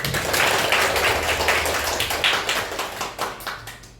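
A class of students claps together in a lively burst of applause that fades slightly toward the end, close and fairly loud.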